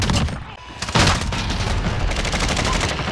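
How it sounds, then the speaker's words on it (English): Shotgun fire in Call of Duty Modern Warfare Warzone: heavy, close blasts of gunfire run almost continuously with booming low-end weight and no pauses. "I already hear the shotgun, dude."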